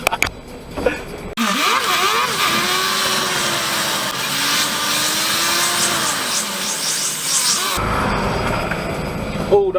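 A motorcycle passes close by a truck on a UK road, its engine note rising and falling for several seconds over the truck's steady road noise, loud and near before dropping away.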